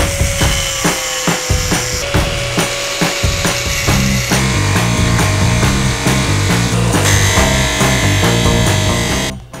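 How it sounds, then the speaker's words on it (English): Steady, loud rhythmic cutting as a bracket is trimmed on a Lambretta scooter, a rapid rasping stroke pattern with metallic ringing tones running without pause and stopping at the end. "just need to trim the bracket out."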